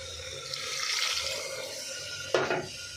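Water runs steadily into a cooking pot of rice and lentils for a few seconds, then a louder splashing pour near the end.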